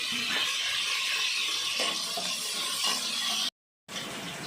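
Onion and green chilli sautéing in a pan for country chicken biryani, a steady close sizzle with faint stirring scrapes, cutting out briefly near the end before resuming.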